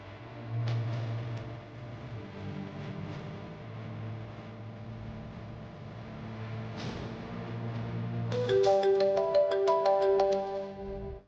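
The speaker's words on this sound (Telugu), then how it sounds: "ఆద్య ఫోన్ వస్తుంది" A mobile phone ringtone in a Telugu TV drama scene starts after several seconds of low room noise and plays as a bright, repeating melodic pattern near the end, moderately loud with no talking.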